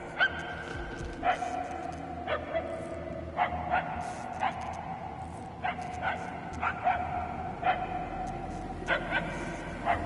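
Sharp, high dog barks and yelps recur every second or so from a dog in the Guardians of the Galaxy video game, clear above a low droning game ambience.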